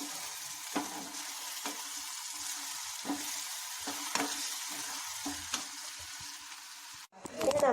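Chilli powder, coriander and garam masala stirred into a frying paneer butter curry base: a continuous sizzle with repeated sharp spoon scrapes at an irregular rhythm, close and clear, ending in a louder clattering burst.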